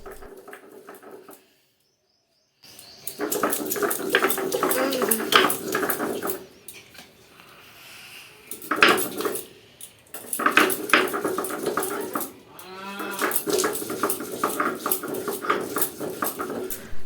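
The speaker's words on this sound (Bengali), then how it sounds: "আজকে ভাবলাম একটু শিলপাটাতেই মশলাটা করি" Ginger, garlic and green chilli are ground by hand on a traditional stone slab for an egg curry paste. The close, scraping grinding strokes come in bursts separated by brief pauses.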